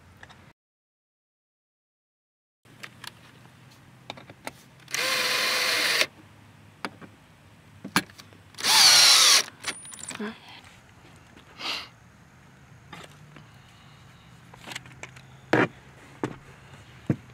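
Cordless power drill driving screws into a rear seat bracket in a Ford truck cab, sounding as two short, loud, close whirring bursts amid clicks, handling knocks and quieter shuffling.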